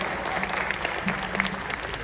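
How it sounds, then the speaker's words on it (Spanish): Applause from the audience at DevOps Day Medellín 2025, a tech conference in Medellín, greets a guest speaker as he comes onto the stage. The clapping forms a steady, moderately loud wash. "un aplauso fuerte para Axel."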